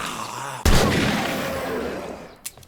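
A single pistol shot in the survival game 7 Days to Die cracks loudly and rings out in a long fading echo, followed by a fainter second bang near the end.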